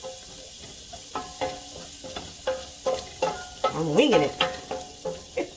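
Chickpeas browning in plant-based butter in a pan: a close sizzle punctuated by rhythmic scrapes and taps of a spoon, with a person speaking briefly over it.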